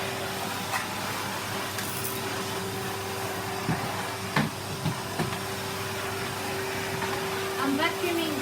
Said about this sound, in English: I'm vacuuming really fast.